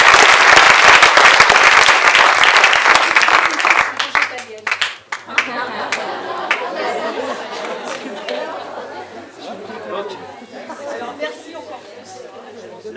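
Audience applause at a farming union's anniversary debate on livestock farming and animal rights, a loud burst of clapping for about four seconds that fades into murmuring crowd chatter and scattered claps.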